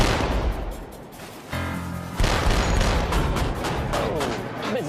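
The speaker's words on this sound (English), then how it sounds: "The gun is hitting its mark, but the killer tomato is a resilient target." Naval gun firing at a floating target out at sea, heavy booming reports echoing across the open water amid wind, with crew voices faint in the background.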